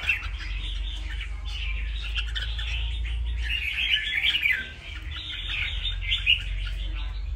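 A pair of red-whiskered bulbuls (chào mào) with thin plumage and long tails, kept for sparring, chirping and calling in rapid bright bursts over a low steady hum, fairly close.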